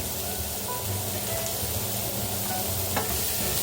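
Chicken pieces browning in a hot pan for brown stew chicken, a steady, even sizzle and crackle with no talking.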